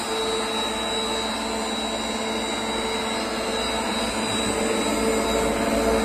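A 500L horizontal ribbon blender with its shaft turning, producing a steady, loud mechanical hum and whine that holds unchanged throughout, with no talking.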